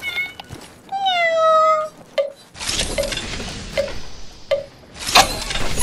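A woman playfully imitates a cat's meow during an Apex Legends game stream, a rising, tonal voiced meow near the microphone, followed by sharp game clicks and bursts.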